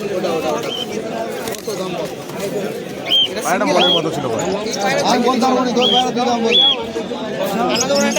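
Soft pigeon coos and rustling birds at a pigeon market in Howrah, beneath busy nearby voices talking over one another in a crowded space.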